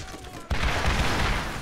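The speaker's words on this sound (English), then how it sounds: "Fully automatic rocket launcher, man." A fully automatic rocket launcher in Borderlands opens fire with a sudden burst, then keeps up a dense, continuous roar of rapid blasts.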